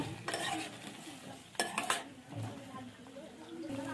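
Spoon scraping and stirring a cauliflower pakora batter with cornflour in a metal pan, producing repeated soft scrapes and a few brighter clinks against the vessel, close and moderately quiet.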